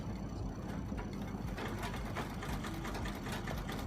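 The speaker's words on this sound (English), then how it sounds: "Stitch it and also stitch the other side." Sewing machine stitching the edges of a velvet handbag, a steady fast mechanical whirr and chatter that runs continuously and close up with no pauses.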